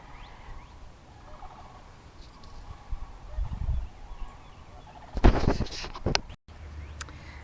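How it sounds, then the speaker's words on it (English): Birds calling outdoors in a quiet spring garden, with a louder burst of gobbling calls close by near the end. "I hear a bunch of birds in the background."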